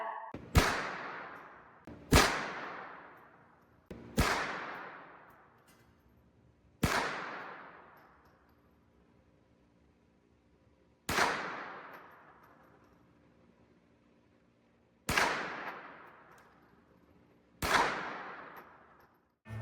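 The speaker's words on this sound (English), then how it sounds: "and commence firing. The range is hot" Seven sharp gunshots fired one at a time at a shooting range, each a loud close crack with a ringing decay, spaced irregularly every two to four seconds with no talk between.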